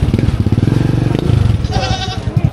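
Goats at a livestock auction in Padre Garcia, Batangas bleating close by in rapid repeated cries, with a low engine-like rumble underneath and a voice briefly audible.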